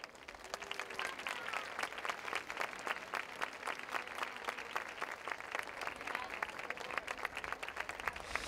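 Steady applause from the audience at the 2014 Casares fair queen coronation, dense continuous clapping at moderate distance lasting throughout without a break.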